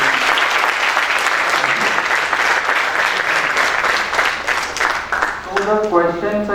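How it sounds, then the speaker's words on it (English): An audience at a campus talk breaks into loud, dense applause that runs throughout, and a voice starts speaking as the clapping fades near the end. "huge round of applause for this crazy innovative idea"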